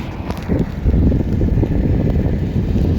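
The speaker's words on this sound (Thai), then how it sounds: "ลมพัด" Wind gusting steadily outdoors at a roadside grill stall, a broad rushing buffet with low rumble that stays loud and constant throughout, with no talk.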